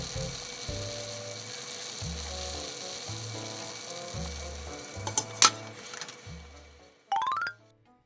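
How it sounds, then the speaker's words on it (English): Pork belly pre-boiling in a pot to soften the meat: a steady low bubbling and simmering, with a couple of sharp metallic clinks near the end. "This is a pre-boil to soften the meat."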